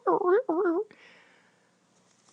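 A voice imitates a marker drawing on a whiteboard with two squeaky, wavering vocal strokes, followed by a faint breathy scratching tail.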